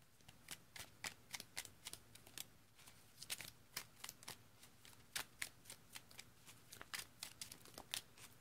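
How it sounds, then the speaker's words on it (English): Pokémon trading cards are riffled and shuffled by hand at close range, a quiet, regular series of crisp flicking bursts repeating about twice a second throughout. "I think they're amply shuffled in here now"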